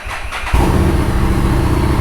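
A Harley-Davidson Street 750 motorcycle starts after a brief quiet moment, its engine catching and settling into a loud, steady idle with a deep exhaust rumble that stays close and continuous.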